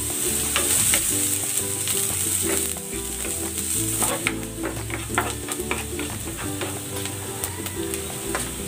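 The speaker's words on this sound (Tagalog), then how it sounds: "Maglalagay ako ng cooking oil. Igigisa ko na tong bawang. At ang sibuyas." Garlic and onion sauté in cooking oil with a loud, close crackling sizzle, punctuated by repeated stirring scrapes and clinks of a utensil against the pan.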